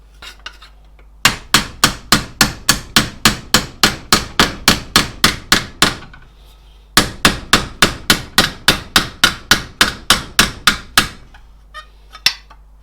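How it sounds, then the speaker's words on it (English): Metal hammer blows on a plate fitted to a Honda CB1000R motorcycle, two fast runs of sharp, evenly spaced ringing strikes, loud and close, with a pause between runs and a single final tap. "I'll have to get the proper hammer"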